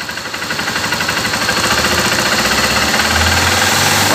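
A Honda CG 150 Sport motorcycle engine, on a bike with a battery that drains, runs close up with a rapid pulsing thrum that climbs in pitch and loudness as it revs near the end.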